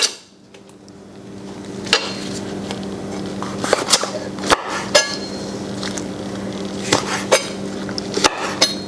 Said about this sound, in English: I'm cutting these into some fairly large slices